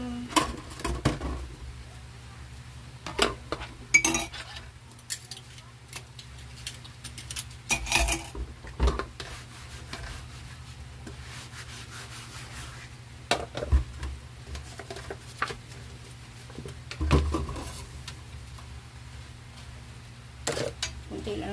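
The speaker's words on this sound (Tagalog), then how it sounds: "maghugas-hugas muna tayo ng ating mga hugasan" Dishes washed by hand at a home sink in the Philippines, giving scattered clinks of plates and utensils and soft rubbing against a steady low background hum, fairly quiet, with occasional talking.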